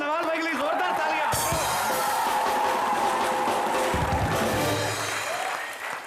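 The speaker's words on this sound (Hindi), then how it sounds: "एक बार सलमान भाई और नवाज भाई के लिए जोरदार तालियां।" Studio audience on a Hindi comedy show bursts into loud sustained applause and cheering, rising after a moment of talk and music and staying dense and close.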